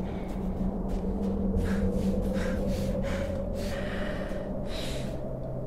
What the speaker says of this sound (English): his breathing's so weird